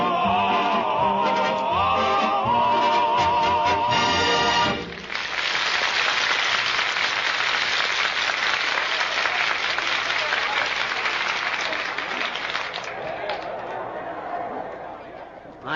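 Radio show sound effect of a large crowd cheering and applauding, bursting in loud after a few seconds of music and sustaining a steady wash of clapping and chatter that slowly fades toward the end.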